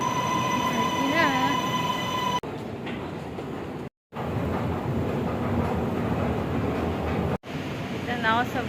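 Continuous loud rumble of a metro train in motion in Malaysia, arriving at Bukit Bintang, with brief high squeals and a couple of abrupt cuts, heard from inside the carriage.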